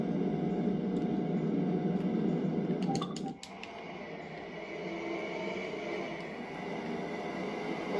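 A Class 395 Javelin train rushes past in Train Sim World 2, a steady loud roar of wheels and wind with a brief sharp clatter midway before the rumble continues.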